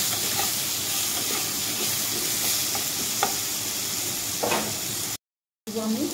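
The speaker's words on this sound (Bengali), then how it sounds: "তো ভালোভাবে নাড়িয়ে চেড়ে নেব।" Turmeric-coated potatoes sizzle and fry steadily in a pan while being stirred, with occasional scraping clinks from the utensil, loud and close, before a brief cut of silence near the end.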